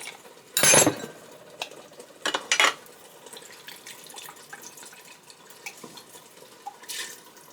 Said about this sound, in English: And then the pasta water to rinse out the can.